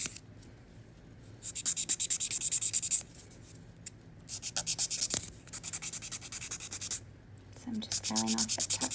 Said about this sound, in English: I'm just filing off that top coat, roughing it up.